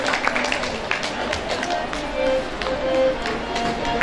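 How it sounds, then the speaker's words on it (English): An audience at a school award ceremony at Bhavan Vidyalaya, Panchkula, applauds with steady, dense clapping heard beneath an announcer speaking. "Let the applause rise for the next beacon of dedication, Vihan Paul,"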